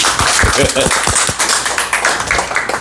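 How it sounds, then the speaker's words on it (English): Applause and scattered claps from an audience at an art exhibition opening, sounding close and somewhat thin, with voices talking over the clapping throughout. "So the big clap, please."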